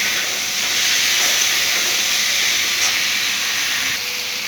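Kochur loti with bhetki fish, chopped tomato and slit green chili frying in a pan, giving a loud, steady, close sizzling hiss that holds evenly throughout with no talking.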